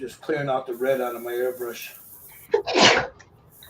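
Someone talks about his airbrush while painting a skeleton figure, then lets out one sharp, close sneeze before the room goes quiet again.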